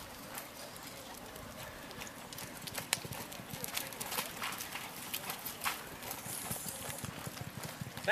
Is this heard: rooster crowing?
no